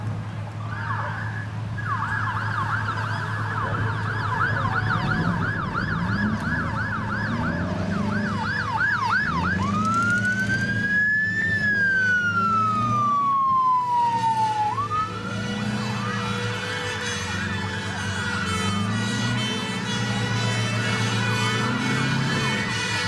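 An airfield fire appliance at an aviation display sounds its siren loudly and close: a long steady wail, then rapid yelps, then rising and falling sweeps over a continuous engine rumble.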